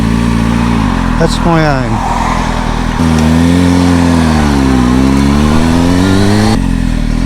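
Kawasaki ZX6R motorcycle engine revving on a road test ride, rising and falling through the gears, loud and close, with a rider talking briefly over it.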